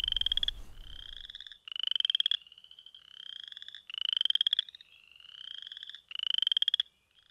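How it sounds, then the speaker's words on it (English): Spring frogs calling in a chorus of loud, rapid trilling bursts that repeat in pulses for several seconds, close and clear, with a brief low rumble at the start and no speech. "the frogs are calling"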